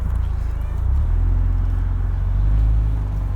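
A 2008 Saturn Sky Redline makes a three-point turn, its engine a low, close rumble that swells slightly as the car maneuvers, with a voice faintly present.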